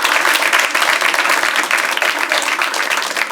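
An audience bursts into loud, steady applause, many hands clapping densely and continuously for a few seconds.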